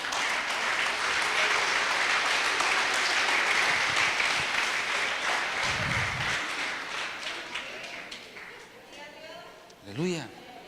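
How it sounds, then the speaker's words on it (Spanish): A church congregation applauds during a sermon, dense clapping that builds and then fades, followed by a voice speaking at the end. "Dele un fuerte aplauso a nuestro Dios."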